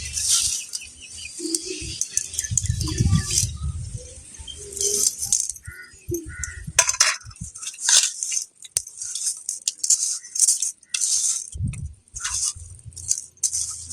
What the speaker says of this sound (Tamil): மஞ்சத்தூள் உப்பும் போட்டு நல்லா கிளறிட்டு க்ளீன் பண்ணால் நல்லா க்ளீன் ஆகிடும்